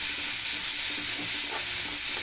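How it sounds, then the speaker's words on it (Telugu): Eggplant and crab curry ingredients frying in oil, a dense continuous hiss of sizzling with faint stirring underneath, close and steady throughout. "నూనెలోనే ఫ్రై చేసేసుకోవాలి"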